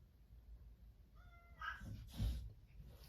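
A single short cat meow rises faintly in a quiet room, followed by a couple of soft thumps.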